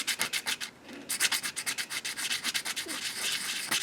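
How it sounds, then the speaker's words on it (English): A sanding block rubs briskly back and forth across a ring, making close, rhythmic scratchy strokes with a brief pause near the start and no talking. "Sands it so all the detail stands out."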